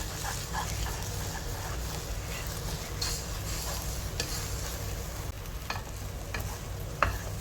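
Banana halwa with sugar stirred in a pan, a continuous close scraping and soft sizzle with occasional spoon taps against the metal, no voices.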